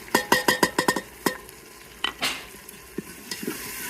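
Spices being stirred into a sizzling tadka in a home kitchen: a quick run of sharp metallic clanks from a spoon against the pan, then lighter scrapes over a steady, close frying hiss.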